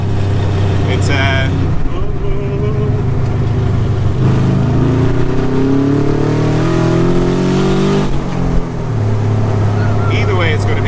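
A 170hp Subaru-engined Fiat 500 revs loudly and close by, engine pitch climbing and falling in sweeping harmonics before settling to a steady idle, with people talking over it.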